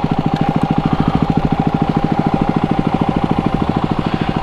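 Tall trials motorcycle idling close by, its engine a steady, even low chug that holds without revving for the whole stretch.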